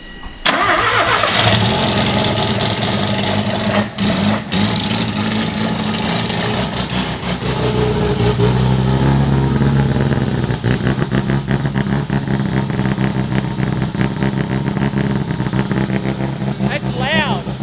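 Loud quad-rotor rotary engine car with eight throttles starting up and running, a harsh, raspy, constant roar close by that fills the whole clip, with voices faintly under it.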